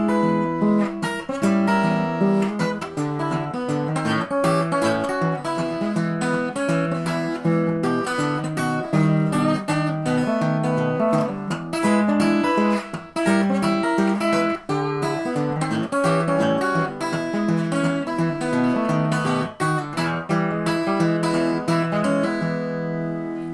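Acoustic blues guitar fingerpicked with thumb and one finger, playing Hesitation Blues in a steady alternating-bass ragtime pattern with melody notes on top, clear and close throughout with no voice.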